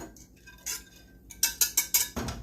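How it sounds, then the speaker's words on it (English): A little thermometer stirs milk for homemade yogurt made from powdered milk: soft taps come first, then four quick, bright metallic clinks in a row and a duller knock, close by and quiet between strikes. "I'm going to take this little thermometer out and give it a little stir"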